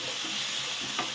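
Upma with chopped tomato being stirred in a pan, a soft continuous sizzle with a short scrape of the spoon near the end, quiet and close.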